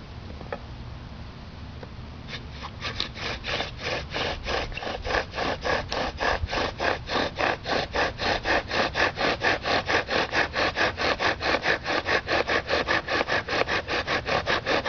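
Wood grinding on wood from a hand-and-bow-drill friction fire, starting as irregular rubbing, then settling into a fast, steady back-and-forth sawing rhythm that keeps going, close and loud.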